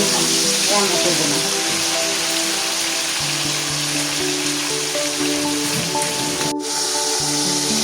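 Flat beans fry in hot oil left from frying fish, giving a steady, fairly loud sizzling hiss throughout, with a faint voice and some kitchen tones underneath.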